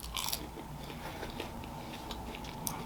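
Crinkle-cut Shake Shack fries get bitten and chewed up close, with crisp crunching bursts at the start and scattered quieter crunches after, no talking over them.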